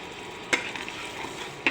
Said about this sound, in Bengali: তেল ছাড়া অবধি এটাকে আমি ভাজতে থাকবো